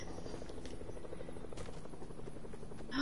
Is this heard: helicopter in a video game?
yes